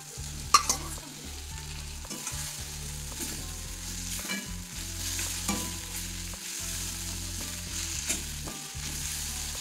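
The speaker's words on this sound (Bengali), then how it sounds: "এবার এটা একটু মিডিয়াম হিটে 2-3 মিনিট এটা একটু ভেজে নেব।" Bitter gourd pieces fry in oil with a cooked spice paste, a continuous close sizzle under steady scraping and stirring strokes, with a brief louder clatter at the start.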